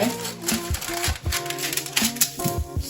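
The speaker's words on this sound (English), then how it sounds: "start kind of creating folds in the parchment" Parchment paper crinkles and crackles as it is folded and creased by hand while preparing chocolate sails, with crisp rustling bursts repeating close up throughout.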